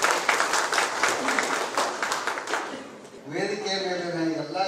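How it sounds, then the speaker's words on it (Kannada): Audience applause at a Human Rights Day event, a loud burst of clapping lasting about three seconds before a voice starts speaking. "ನಿಮ್ಮೆಲ್ಲರೂ ಒಂದು ಜೋರಾದ ಚಪ್ಪಾಳೆ."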